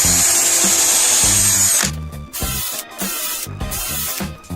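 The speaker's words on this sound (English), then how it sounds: "And then just screw them onto your block, leaving one side hanging out." Power drill driving screws into a wood block to build homemade C-clamps: a steady high whir for about two seconds, then several short bursts of drilling separated by brief pauses, close and loud.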